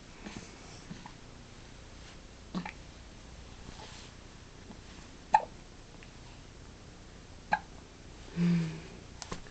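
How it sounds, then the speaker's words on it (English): Baby girl's hiccups, a few short, soft jerks spaced a second or two apart against quiet room hiss, with one longer low murmur near the end. "Those hiccups again."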